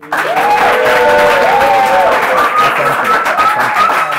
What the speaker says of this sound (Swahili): Asanteni sana, wapi makofi yao?